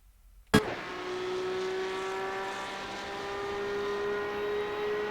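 Race car engine in a racing video game on a full-speed lap of Suzuka, starting with a sharp hit and then holding a steady, droning high-revving whine at even volume throughout.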